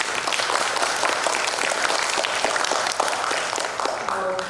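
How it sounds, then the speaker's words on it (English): Sustained audience applause for the judges at a Thailand public speaking competition, a dense, even wash of many hands clapping loudly from start to finish. "So please again join me in giving a round of applause to our judges."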